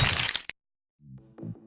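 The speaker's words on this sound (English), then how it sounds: "You can hear the bones breaking in this one." Video game game-over effect of a fighter impaled on a bed of spikes: a sharp burst of crunching, cracking bone-break noise, then silence and a few faint clicking, thudding game sounds.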